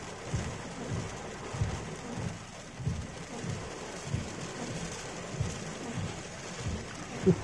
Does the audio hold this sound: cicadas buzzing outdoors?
no